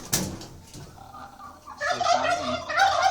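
Turkeys on a farm gobble in loud, rapid bursts, one sharp call up close at the start, then overlapping gobbling from several birds swelling and continuing to the end.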